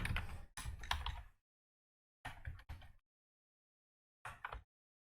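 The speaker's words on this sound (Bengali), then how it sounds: "এখানে আমরা লিখব জাভা ভার্সন" Keys clatter on a computer keyboard as a command is typed, in three separate bursts of quick keystrokes with silent pauses between, close and fairly quiet.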